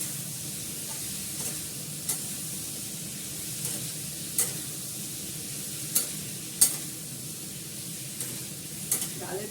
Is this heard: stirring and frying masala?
yes